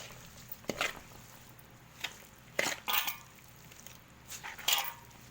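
Homemade mango pickle is mixed in a bowl, making a series of irregular scraping and clinking knocks close by, separated by short quiet gaps.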